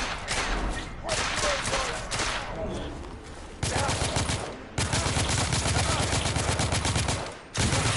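Gunfire in the video game The Order: 1886, bursts of rapid shots, loud and dense, with brief gaps between volleys.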